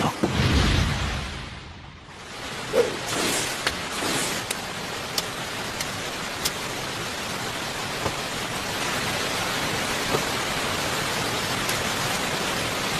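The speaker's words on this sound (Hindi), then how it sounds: "बारिश हो रही है" Rain falling steadily as a broad, even hiss, with a brief louder rush and dip at the start and a few scattered sharp ticks and drips over the constant downpour.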